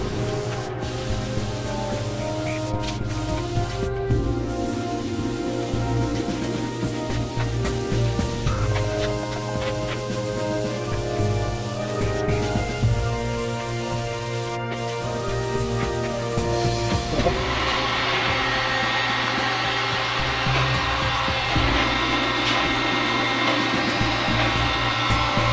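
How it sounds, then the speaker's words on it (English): An airbrush sprays paint onto a model plane, a steady breathy hiss broken by short pauses and bursts, close and moderately loud, with a shift to a brighter, fuller spray partway through. "Now you can see I'm brushing away from the edge so I don't get overspray or underspray."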